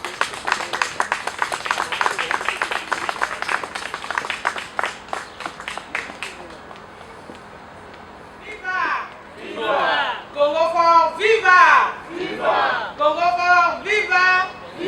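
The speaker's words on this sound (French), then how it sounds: "Je vous demande de l'applaudir s'il vous plaît." A crowd at an organization's gathering applauds after a coordinator is introduced, first brisk dense clapping, then rhythmic cheering and chanting voices swelling in waves.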